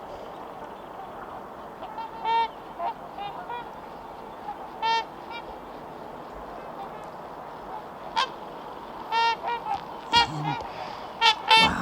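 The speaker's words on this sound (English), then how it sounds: "Now I'm back at the lake looking at my favourite trumpeter swans." Several loud, nasal honks from trumpeter swans at a lake ring out at intervals over a steady outdoor background, some close and some farther off.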